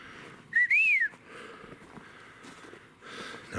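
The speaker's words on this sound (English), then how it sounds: "I got whistles getting to the teepee." A single rising-and-falling whistle sounds once, fairly close, outdoors in snow near a teepee-like stick structure, over faint background hiss.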